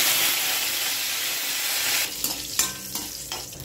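Curry leaves dropped into hot oil with cinnamon, fennel and cardamom for prawn thokku start a loud, steady sizzle that settles into sharp, crackling spits and pops near the end, with no talk.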